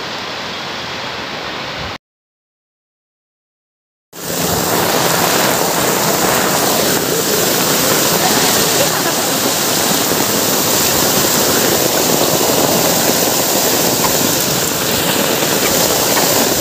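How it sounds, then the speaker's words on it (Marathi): Heavy rain from a cyclone pours down in a loud, broadband roar that stops briefly, then returns as a dense, continuous rush with no voices. "वरतून पाणी सगळं खालती येतोय"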